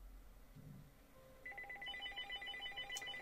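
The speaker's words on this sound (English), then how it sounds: "Oh crap, the phone is ringing!" Phone ringing inside a Minecraft game on Xbox, a faint electronic ring of repeated short pulsing tones that begins after a quiet moment and continues steadily at low volume.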